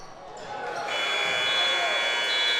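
End-of-quarter buzzer at a high school basketball game: a sustained electronic tone rising out of gym crowd noise and continuing to the end, with a commentator talking over it.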